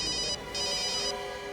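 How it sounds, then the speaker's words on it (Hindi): A telephone rings with an electronic, tonal ringtone that pulses in two bursts separated by a short gap, clear and fairly close. "मुझे फोन लेना पड़ेगा।"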